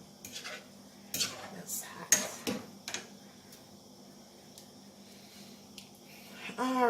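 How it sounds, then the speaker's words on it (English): Seasoned turkey wings being tossed and mixed by hand in a bowl, giving soft wet squishes and scattered clinks against the bowl, quiet and close, with a few louder knocks and a faint voice near the end. "And just mix it all together."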